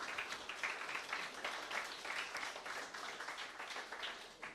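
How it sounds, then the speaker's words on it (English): Applause at a Node.js community meetup, a dense steady patter of many hands clapping together, fairly faint and distant, continuing evenly throughout with no voices. "round of applause for Cloudflare"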